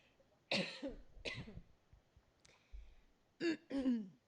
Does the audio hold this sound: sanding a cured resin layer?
no